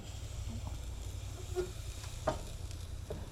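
Squirrel meat sizzling on a hot grill, a faint, steady crackle and hiss with a few soft pops and clicks, quiet and continuous throughout.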